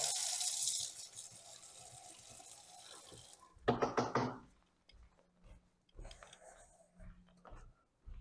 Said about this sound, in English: Just rinsing out my brush quickly.